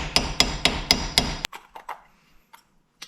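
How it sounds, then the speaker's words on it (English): Five sharp metallic hammer blows ring out at an even pace, close and loud, followed by lighter taps and scraping as a hammer and screwdriver pry a part loose from a 2003 GMC Sierra 4WD front wheel hub assembly. "I'm just going to use a hammer and a screwdriver to pop this off."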